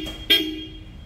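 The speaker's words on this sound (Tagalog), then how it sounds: "Ito yung supersonic horn namin" A single short, loud blast of a supersonic horn fitted to a Toyota Fortuner, sharp and bright at onset and then tailing off.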